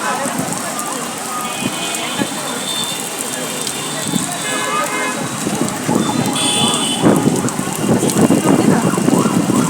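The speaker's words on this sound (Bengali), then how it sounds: "দেখেন বৃষ্টি কি পরিমাণ বৃষ্টি হচ্ছে" Heavy rain pours steadily during a storm, a dense continuous hiss and patter that swells louder toward the end, with a person talking over it.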